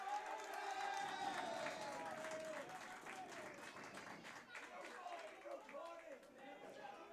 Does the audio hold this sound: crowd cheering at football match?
yes